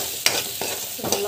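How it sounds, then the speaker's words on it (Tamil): A greens curry mixture with salt and asafoetida sautéing in a hot pan, a soft steady sizzle under a few scraping strokes of a spoon, close and fairly quiet. "நல்லா வதக்கிட்டுக்கோங்க."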